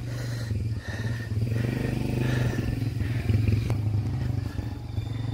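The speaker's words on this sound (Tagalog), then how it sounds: "Ito yung mga sasakyan." Vehicles and a motorcycle passing on a mountain road near Mt. Oro, a steady mid-level engine drone with clattering, rising slightly as a vehicle passes close, with no voices heard.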